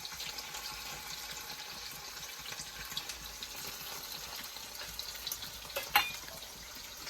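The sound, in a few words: paneer frying in oil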